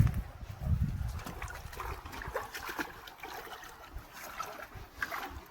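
Water flowing through a creek channel, a soft continuous trickle and gurgle with faint splashing, quiet and fairly close, without voices.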